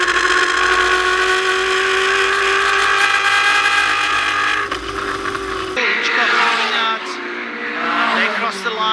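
Race cars in the flying cars class scream past on a circuit during the final lap, loud sustained high engine whine with a sharp drop as one passes, then another car's engine rising under a commentator's voice.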